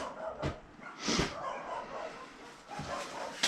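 Dogs barking near a trapper's catch of a raccoon, a few sharp yips and barks at moderate distance over a steady background hiss, with faint whimpering between them.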